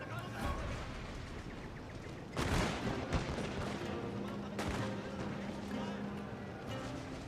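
Battle noise from the video game Historic Battle 6, Battle of Sekigahara, with repeated gunfire from up a hill and booming impacts, a loud burst near the middle, continuous over a busy mix with voices talking throughout.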